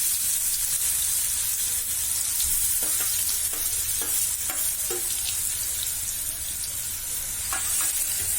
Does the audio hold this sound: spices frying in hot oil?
yes